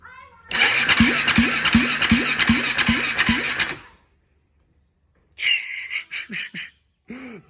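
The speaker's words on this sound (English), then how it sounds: "I popped it back in here just so I could hook up the battery and everything, just so I could run the starter" An engine turned over by its starter during a compression test, a rhythmic chugging crank of about ten even beats lasting a few seconds that stops abruptly, followed by silence and then short squeaky bursts.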